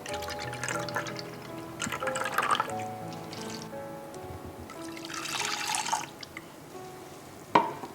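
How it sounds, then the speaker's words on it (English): Soy sauce poured into a pan of dissolved kibisato sugar for a soba noodle broth, a soft trickling dribble with faint drips, fairly quiet and close, with a sharp clink near the end. "add soy sauce"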